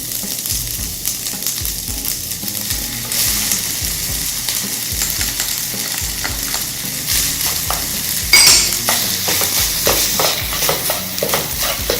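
Combination fried rice with sauce being stirred in a hot pan, a continuous loud sizzle with frequent scraping of the spatula against the metal and occasional clinks.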